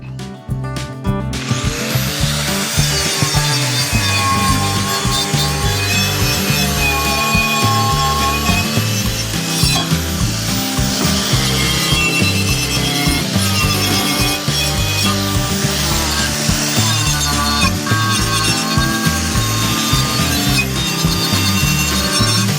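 A handheld power grinder works a steel trailer hitch plate in a farm shop, giving a loud, continuous abrasive whine that stays steady for over twenty seconds with no talking.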